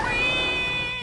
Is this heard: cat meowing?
yes